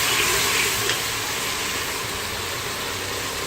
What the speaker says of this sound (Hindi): ये लहसुन अदरक डाल दिया, इसको थोड़ा सा हमने फ्राई किया